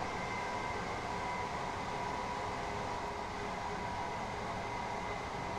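A passenger train in Train Sim World 2020 on the East Coastway route runs steadily through hilly country, giving a continuous rumbling roar with a sustained whine, loud and unbroken throughout with no talking.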